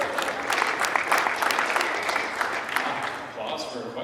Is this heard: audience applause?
yes